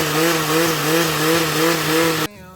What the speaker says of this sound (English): add it to the vegetables in the blender to enable it blend smoothly